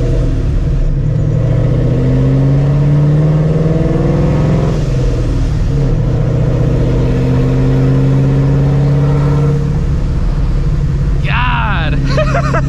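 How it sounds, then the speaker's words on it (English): A supercharged 2004 Ford Mustang GT engine revs in repeated rising pulls, loud and close, with speech mixed in and a sharp high whine near the end. "I can guarantee this is gonna be the loudest car on the block."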